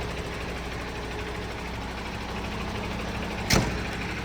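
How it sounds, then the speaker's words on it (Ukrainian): A MAN dump truck converted from a tractor unit raises its body by hydraulic pump, a steady engine and pump drone held at one level, then a brief sharp clunk near the end. "Ось так підіймається кузов."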